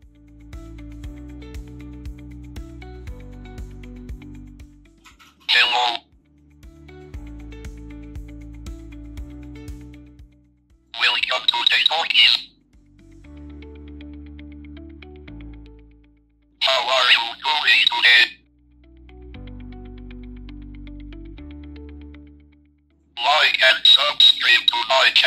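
Short phrases in a small ESP8266 board's offline synthesized text-to-speech voice alternate with a steady electronic hum and pauses; the robotic speech bursts are fairly loud and close.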